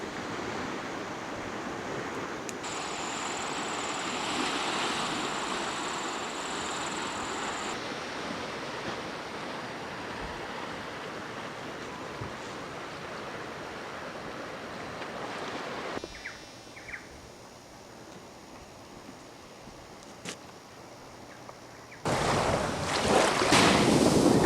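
Ocean surf washes onto a deserted beach under gusty wind buffeting the microphone, a broad continuous rush that drops quieter partway through before a loud roar of wind and water at the end.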